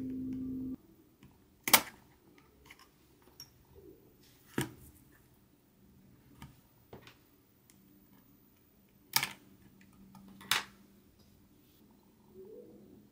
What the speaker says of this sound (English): Now I just gotta use this little tool to pry out the cooler part.